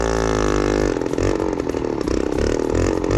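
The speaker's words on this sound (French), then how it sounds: "Ils mettent des coups de gaz pour pas que la moto s'arrête." A 50cc moped engine revs in neutral, holding a high, rough buzzing drone, close and loud, with fluctuating throttle blips to keep it from stalling.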